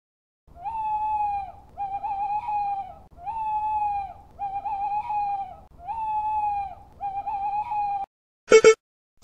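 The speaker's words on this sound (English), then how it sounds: "Owl." An owl hoots six times in a steady, evenly spaced series of clear, loud calls, each note held briefly with a slight downward slide, followed by a short sharp burst of another sound at the end.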